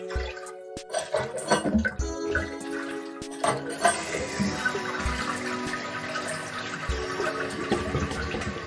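A dual flush toilet is flushed close by, giving a loud rushing surge of water that swirls and gurgles through the bowl for several seconds, with a few clunks at the start as the handle is worked.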